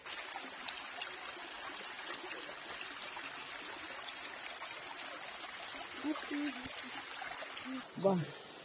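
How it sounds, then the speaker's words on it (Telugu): A forest waterfall pours as a steady, soft rushing wash of water, even and continuous at a moderate distance, with faint voices briefly near the end. "వాటర్ ఫాల్స్ దగ్గరికి వచ్చేసాం ఫ్రెండ్స్"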